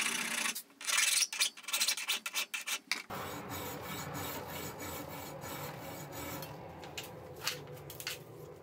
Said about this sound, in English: I'll break the inside corner using a hacksaw